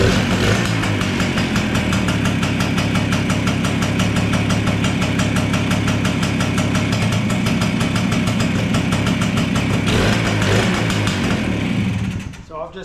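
A BSA Bantam D7 motorcycle with a Mikuni carburettor runs loud and steady at close range, a continuous engine drone with a rapid firing pulse that holds until it cuts out near the end.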